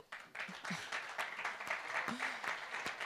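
Steady applause from a crowd at a conference in Pieve Torina, Italy, many hands clapping together at a moderate distance, with a few stray murmurs and a brief voice beneath it.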